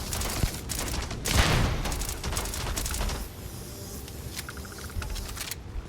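Rapid bursts of sci-fi gunfire in Starfield rattle through a firefight, a dense fusillade of shots and impacts for the first few seconds before thinning into scattered, quieter pops and ambient noise.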